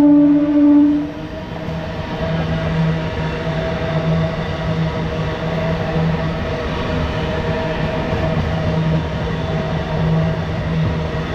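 The Gour Express, running with new LHB coaches, passes Bidhannagar out of Sealdah, a loud continuous rumble and rattle of carriages on the rails, with a steady mechanical hum throughout.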